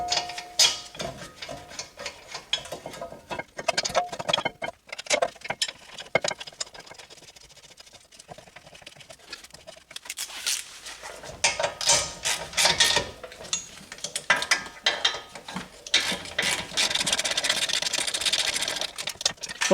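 A hand ratchet tightens the rear caliper bracket bolts on a 2018 Honda Accord during a brake job, producing bursts of rapid close clicking with short pauses and some metallic handling noise between strokes.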